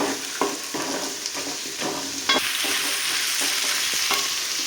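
Carrots and beans for fried rice sizzle loudly in a hot pan. A spoon stirs them with clinks and scrapes over a constant frying hiss. No talking.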